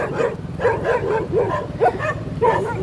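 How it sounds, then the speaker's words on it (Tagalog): Several dogs bark in repeated short bursts at night in a quiet neighborhood in Sto. Tomas, Batangas, a steady rhythm of moderately loud barks and yips over a low background hum. "may mga aso pa lang nang dito"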